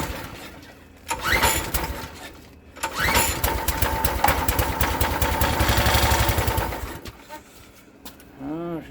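A Briggs and Stratton Quantum Edge 6.5HP log splitter engine runs loudly and unevenly, surging after a brief start, then fading and dying out toward the end.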